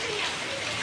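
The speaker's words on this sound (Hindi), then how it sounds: "तो भाई जोर जोर से बारिश होने लगी है" Heavy rain pours down steadily during a downpour at home, a dense continuous hiss close by with no gaps across the short stretch.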